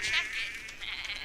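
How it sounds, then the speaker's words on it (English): Sheep bleat in a television drama scene on a farm settlement, a short wavering cry heard at moderate distance with a second fainter bleat, while people talk over it. "There's sheep."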